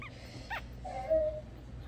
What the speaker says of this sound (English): Oh, there's Sylvia crying